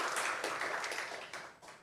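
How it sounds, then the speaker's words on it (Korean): A church congregation clapping together during a Sunday worship service, a faint, dense wash of many hands sounding in steady bursts across the room, with no talking over it. "우리 하나님께 영광의 박수 올려드릴까요?"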